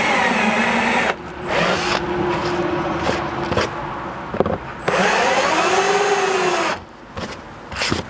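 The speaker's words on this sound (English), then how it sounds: "kind of drill a hole in this corner" A step drill bit bores a hole in the corner of a 4th gen rear strike bumper, a loud whining drill that runs in several bursts and stops and changes pitch as it cuts through.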